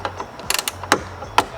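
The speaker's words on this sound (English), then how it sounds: "we can go ahead and reinstall the nuts onto the studs" A hand ratchet tightens nuts onto the hood vent studs of a 2024 Mustang with a carbon fiber hood vent, giving a series of sharp, close, irregular clicks.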